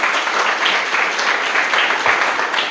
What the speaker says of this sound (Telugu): గట్టిగా చప్పట్లు కొడతాం ఒకసారి.